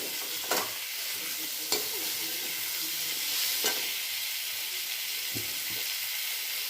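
Bitter gourd leaves and potatoes fry in a little oil, a steady close hiss and sizzle running throughout with a few sharp stirring scrapes against the pan.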